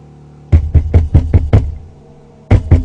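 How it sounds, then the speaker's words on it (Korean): Loud, hard knocks on a door come in a quick run of six evenly spaced raps, then a pause and two more, heavy and close with no voices. "갑자기 또 다시 한번 들리는 노크 소리에 전 화들짝 놀랐습니다"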